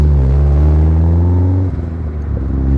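A turbocharged Mazda MX-5 drives along and accelerates, its engine a loud, close droning rumble with rising pitch, easing off briefly near the end before pulling again.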